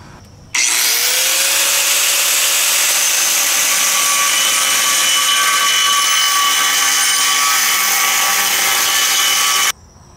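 A 4.5-inch angle grinder with a thin 60-grit cutoff wheel cuts through a steel trailer tongue, a loud, sustained high whine that starts abruptly, holds steady for about nine seconds and stops.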